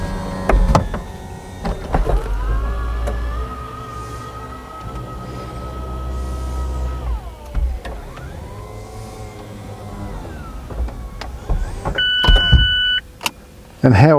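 Electric retractable hardtop roof of a 2024 Mazda MX-5 RF GT RS cycling through its motion, a steady motor whine with rising and falling pitch shifts, mechanical clunks at the start and end, and latch clicks near the close.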